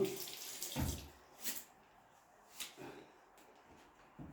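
Tap water runs during Ja'fari ritual ablution while the arms are washed, heard as several brief splashing gushes with quieter pauses between them, close by and with no voices.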